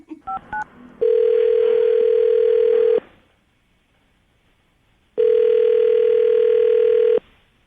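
A few quick keypad beeps, then two long, steady telephone ringing tones separated by a pause, the call ringing out with no answer yet.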